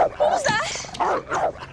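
A dog yips and whimpers in short, high bursts, close by, mixed with voices talking.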